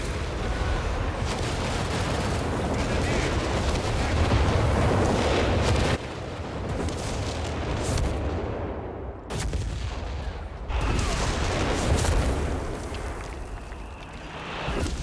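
A Bishop artillery barrage in the video game Company of Heroes 3, during a 3v3 match: dense, continuous rumbling booms and gunfire roll on and on at high volume, with a few brief dips between heavy salvos.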